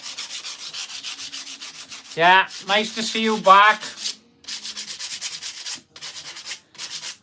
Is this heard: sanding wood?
yes